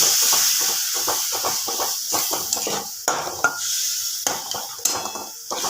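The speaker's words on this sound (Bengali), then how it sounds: "মশলাটা যাতে পুড়ে না যায় অল্প একটুখানি জল দিয়ে দেবো" A little water added to spice masala frying in a pan for a fish curry, loud sizzling hiss under rapid, rhythmic scraping and stirring strokes against the pan, close and continuous.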